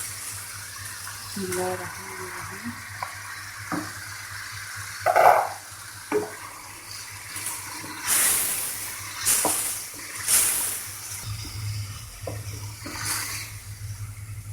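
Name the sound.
mutton liver added to cooking tomato masala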